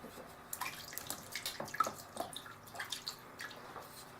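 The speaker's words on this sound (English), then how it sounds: "the next thing we're going to do is rinse off this stone" Water runs and drips over a Shobudani suita sharpening stone as it is rinsed, a soft steady trickle with small splashes and no voices.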